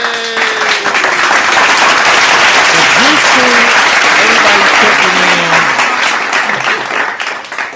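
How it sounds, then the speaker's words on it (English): Steady hand claps from a small group run throughout, loud and close, with chatter and a few voices talking over them. "We're gonna throw some hand claps in there for you."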